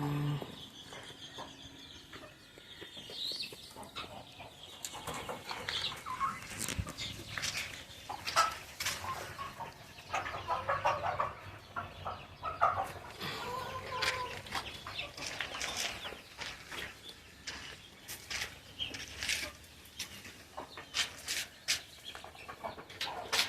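Hens cluck and stir on a poultry and quail farm in Urapakkam, Chennai, with scattered close clucks and short bursts of movement over a quiet farmyard background.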